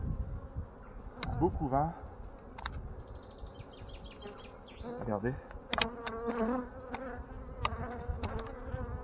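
A close, steady hum of honeybees buzzing at an open hive during a spring inspection fills the air, with a person speaking briefly in French over it.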